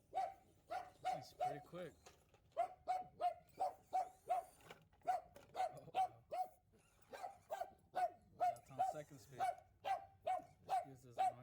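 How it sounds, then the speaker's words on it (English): Dog barking repeatedly in steady bursts, loud and close, with someone talking briefly over it near the start. "Excuse this annoying dog."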